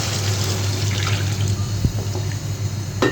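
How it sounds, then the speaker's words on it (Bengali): Water poured into a pot of Bengali ilish fish curry with potol (pointed gourd), a steady close splashing stream running throughout under a low hum, with a brief clink near the end. "আমি দিয়ে দিলাম পানি।"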